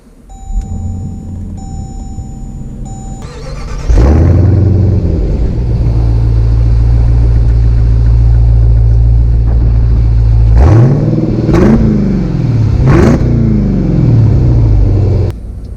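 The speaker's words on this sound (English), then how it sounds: "let's take the 2019 Trackhawk out to see how it drives." A 2019 Jeep Grand Cherokee Trackhawk starts up with a short chime, its engine catching into a loud, deep idle rumble, then revving sharply several times before pulling away with rising engine roar, close and strong throughout.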